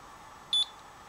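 A single short, high electronic beep sounds once from a Honeywell Vista alarm system remote, clear and close against a quiet background.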